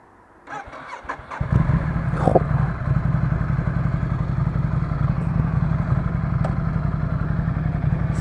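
A Ducati Monster 797 motorcycle fires up after a few faint clicks and a brief cranking, then settles into a loud, steady, close-up idle with a rhythmic low throb and occasional light blips.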